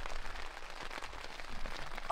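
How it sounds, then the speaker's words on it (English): Steady light rain patters outdoors on a damp, cold backcountry elk hunt in Colorado, a soft, even hiss with scattered drop ticks and no voices. "it's a touch rainy."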